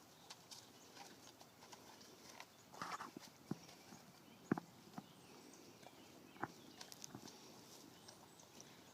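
Two horses walking through deep mud on a farm, hooves clip-clopping and squelching in an irregular rhythm, fairly close and quiet, with a few sharper thuds and faint birds in the background.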